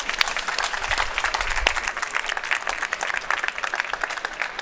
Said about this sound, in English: And a big applause for you.